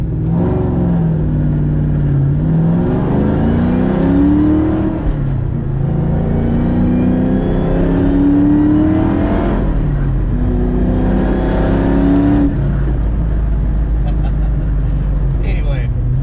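A boosted 2003 Ford Mustang Mach 1 with aftermarket cams revs while driving, its engine note climbing through several rising pulls and dropping between shifts, with someone talking over parts of it.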